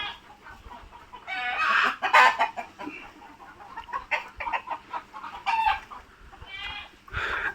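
Chickens on a free-range farm in Raozan, Chattogram cluck steadily at close range, with a rooster's call mixed in and several overlapping birds rising and falling throughout, with no one talking.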